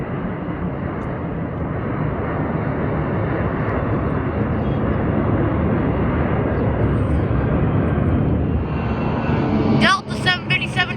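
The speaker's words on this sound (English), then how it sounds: "Southwest Airlines 737-700, Heart livery." A Southwest Airlines Boeing 737-700 airliner in heart livery passes at San Diego with a loud, sustained engine roar that holds steady for several seconds before a brief burst of other noise near the end.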